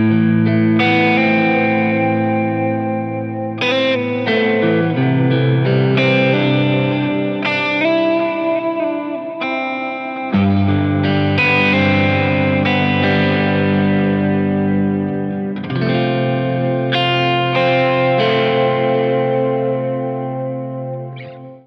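An electric guitar runs through a Line 6 Helix patch with chorus, a big ambient reverb and quarter-note delay. Loud sustained chords and ringing notes trail into echoing repeats, with no talking.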